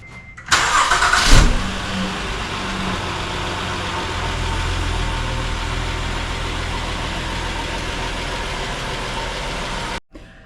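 A 2016 Honda Odyssey minivan backs up outside, its engine starting with a short burst and then a steady, close, low idle hum that runs on until it cuts off abruptly at the end.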